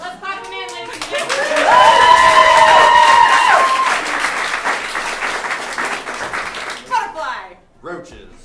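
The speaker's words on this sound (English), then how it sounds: "Let's clap them in, ladies and gentlemen." A live audience applauds and cheers, swelling into a loud, sustained wave that fades out. A host talks over the start and a voice cuts in near the end.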